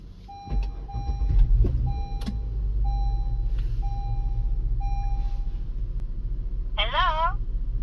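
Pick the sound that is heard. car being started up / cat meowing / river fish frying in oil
car being started up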